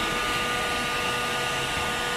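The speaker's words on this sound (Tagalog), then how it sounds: "blower heater para madali yung ating pagtunaw ng yelo." A blower heater runs steadily while melting ice off a refrigerator evaporator, giving a loud, constant whooshing fan roar with a faint steady tone and no break or talk.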